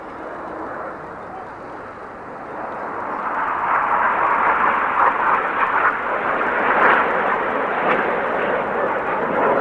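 Display team aircraft roar steadily overhead at the Farnborough Air Show, a broad sustained engine rumble that builds and holds loud, with an announcer talking over the noise.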